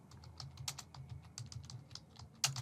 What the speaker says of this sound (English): here let me just type a testing message